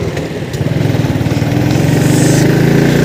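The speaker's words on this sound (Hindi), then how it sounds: "तो कहीं ट्रैक्टर चल रहा है" A tractor engine runs nearby with a loud, steady low chugging throb that swells slightly and holds constant, with no voices over it.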